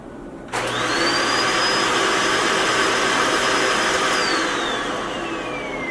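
A Shark vacuum cleaner switches on and runs with a loud, steady whooshing roar and a high motor whine that dips slightly as it winds down.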